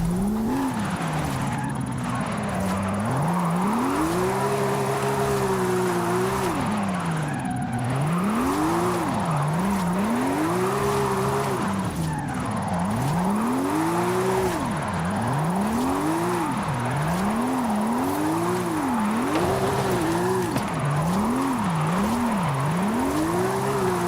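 A Porsche drifting in the racing game Forza Horizon 5, its engine revving up and down in repeated sweeping cycles under a constant whooshing roar of wind and tyre noise, loud and continuous throughout.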